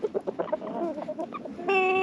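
Backyard chickens cluck close by in a quick series of short, bright calls, ending with a longer drawn-out squawk.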